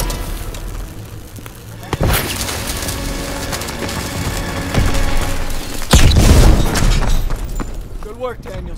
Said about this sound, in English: Okay, I need to put a C4. I just need to get the C4 over here.